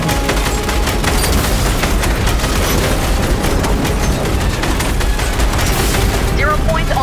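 Dense, loud booms and rapid-fire blasts from crystals detonating during a Fortnite live event, a continuous barrage with game voices mixed underneath.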